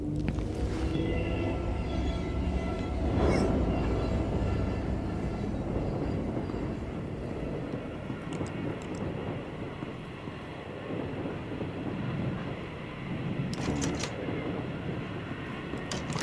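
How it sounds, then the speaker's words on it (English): Steady low rumble of a moving train carriage inside a PS2-style horror video game, continuous and fairly loud throughout, with faint clanks and rattles, and no talking. "Wait, is the train moving?"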